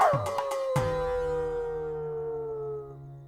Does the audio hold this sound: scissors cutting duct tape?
no